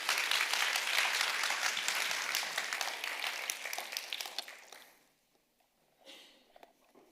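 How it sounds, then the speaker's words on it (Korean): A church congregation claps to welcome a guest preacher, a dense burst of applause that holds for about four seconds and then fades away, followed by near silence and a few faint scattered sounds. "우리 뜨거운 박수로 환영하도록 하겠습니다"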